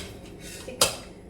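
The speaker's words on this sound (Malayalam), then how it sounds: "നേരെ കുക്കറിലേക്ക് ഇടുന്നു" Washed chicken dropped into a pressure cooker, making one sharp metallic clatter up close against a faint, quiet kitchen background.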